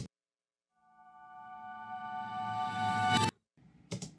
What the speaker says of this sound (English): the only other thing that I did with acoustic was this little reverse swell